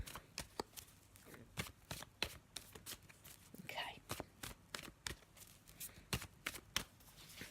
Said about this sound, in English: So let me have a shuffle and see